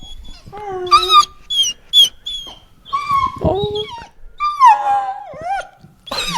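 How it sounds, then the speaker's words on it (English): A dog howls and whines in drawn-out, wavering bursts, close by, with a person briefly exclaiming between the cries. "She's howling."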